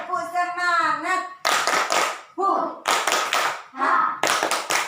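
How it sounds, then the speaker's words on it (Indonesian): Children in a classroom do a rhythmic group spirit clap, bursts of close, loud clapping alternating with chanted voices between the rounds. "kita tepuk semangat dulu yuk. Yo, tepuk semangat."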